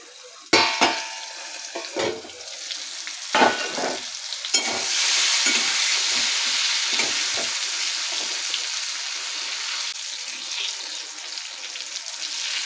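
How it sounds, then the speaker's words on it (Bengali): Slices of pointed gourd seasoned with salt and turmeric fry in a pan. A few sharp stirring clatters come early, then a continuous, fairly loud sizzle carries on to the end. "এবার পটলগুলো ভাজা হয়ে গেছে"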